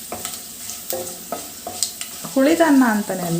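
Curry leaves fry in a pan with a moderate sizzle and a run of quick spatula taps and scrapes, then a person talks briefly over the frying near the end.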